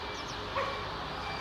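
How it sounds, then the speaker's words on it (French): A dog pack somewhere outdoors in Turkey gives one short yelp standing out over a steady windy background, with the rest of the barking faint and distant. "Meute de chien."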